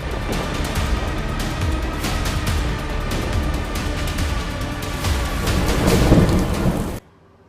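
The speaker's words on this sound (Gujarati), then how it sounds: "પોરબંદર તાલુકામાં 2 જ કલાકમાં 2 ઇંચ વરસાદ ખાબકી ગયો" Heavy monsoon downpour with rumbling thunder in Porbandar taluka, Gujarat: a loud, steady roar of rain that swells into a deeper rumble before cutting off abruptly.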